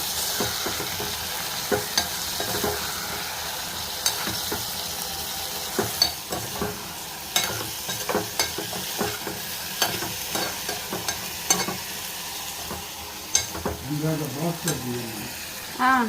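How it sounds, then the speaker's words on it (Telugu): Eggplant pieces and soaked lentils fry in a pan while being stirred, a close sizzle broken by frequent irregular spatula scrapes and clinks against metal, no talk. "వంకాయ ముక్కలు వేసి బాగా కలుపుకోవాలి"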